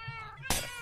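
Cats in the Minecraft video game let out a short, loud meow that starts abruptly and stands alone without any talking.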